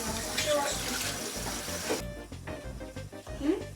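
Tap water runs steadily into a kitchen sink for hand washing, a constant splashing hiss that drops away partway through, leaving softer trickles and clatters while voices talk faintly.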